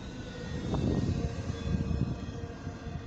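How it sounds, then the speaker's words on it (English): Eastbound BNSF intermodal freight train rumbling past a railroad crossing in the evening, a steady loud low roar with rattling that stays constant throughout, no voices. "We're having a BNSF Intermodals train."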